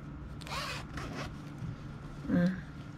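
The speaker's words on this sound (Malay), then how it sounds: "kita buka zip ni." A zipper on a ruffled three-tier dress being opened during sewing, with soft short zipping rasps and fabric handling, a louder pull near the end, all fairly quiet and close.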